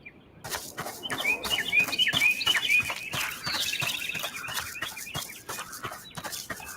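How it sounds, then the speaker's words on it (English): Birds chirp and tweet in bright, repeated bursts over a steady run of clicking, tapping noises in the video game Mutts Mowers. "I love the birds."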